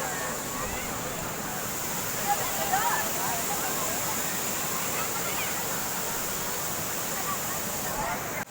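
The Tham Phra waterfall in Seka district, Bueng Kan, visited by boat, gives a steady, dense roar of rushing water, loud and unbroken for the whole stretch.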